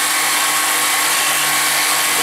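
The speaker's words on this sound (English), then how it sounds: "So turning on the speed, quite loud, drill brass gently." A power drill boring gently into a piece of brass, a loud continuous high whine that holds steady throughout, with no voices.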